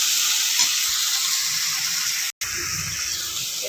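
Tomatoes sliced into rounds frying with onions in hot oil, giving a steady, loud sizzle throughout, with a brief dropout partway through and no talking.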